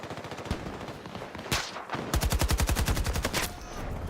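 Gunfire from an underbarrel weapon while moving in a Battlefield video game: a scattered run of single shots, then a heavy boom, then a fast, loud burst of rapid automatic fire that stops abruptly.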